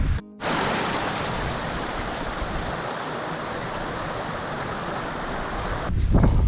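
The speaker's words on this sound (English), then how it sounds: "Here's the wind picking up." Strong wind gusting across an open valley in the Brecon Beacons, a steady broadband roar close on the microphone that swells louder toward the end, with no talking.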